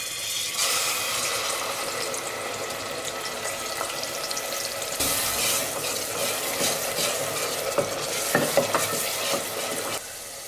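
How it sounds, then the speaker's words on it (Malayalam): Ginger, garlic and onion paste sizzles loudly in hot oil inside a pressure cooker, with continuous crackling, stirring scrapes and a few sharper clatters near the end. "ഇതിലേക്ക് ജിഞ്ചർ ഗാർലിക് ഒണിയൻ പേസ്റ്റ് ചേർത്ത് കൊടുക്കാം."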